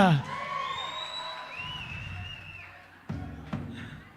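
Concert crowd at an album launch cheering and whooping, with shouts and whistles fading over a few seconds, then renewed bursts of noise near the end.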